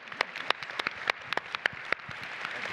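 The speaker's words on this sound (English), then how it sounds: "let's everyone give us a big hand of applause to our two panelists" Scattered handclaps from a small conference audience applauding two panelists: about a dozen sharp, separate claps at uneven intervals, fairly faint and roomy, without talk.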